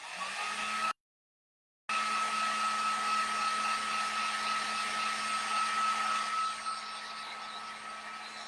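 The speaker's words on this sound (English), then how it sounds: "I'm going to go ahead and use my heat gun to dry these" A heat gun blows steadily, drying fabric heart pouches with a constant whining hum and airy rush at close range, broken by a brief gap of about a second.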